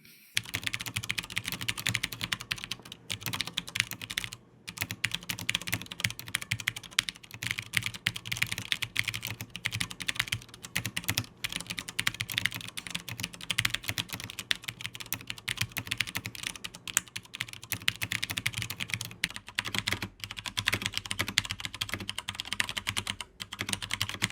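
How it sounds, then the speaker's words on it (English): Steady, rapid clacking of Cherry MX mechanical keyboard switches as someone types continuously, close and fairly loud, with no talking. "Let me give you guys a quick sound test comparison between the browns and the clears."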